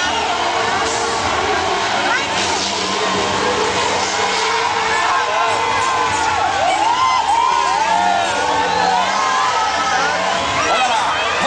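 A crowd shouts and whoops at a Formula Truck race in Rio de Janeiro as a racing truck descends, with cheers rising over steady background noise while someone talks over it.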